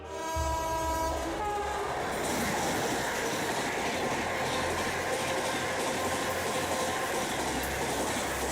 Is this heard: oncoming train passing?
yes